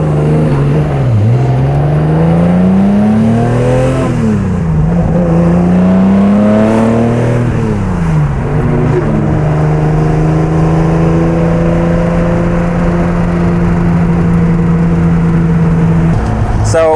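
A 320hp Datsun 240Z in a touge rally accelerates and shifts repeatedly, with loud, close engine revs that climb and drop in several sweeps before settling into a steady drone, heard from inside the car.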